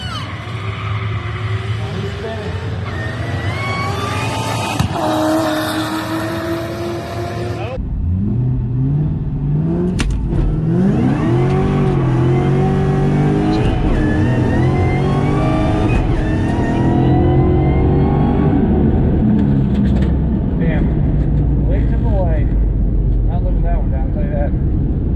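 A Ford Shelby GT500 on a drag pack launches in a no-prep drag race. The engine revs loudly, then roars hard with rising pitch through the run, close and sustained, with a voice heard over it.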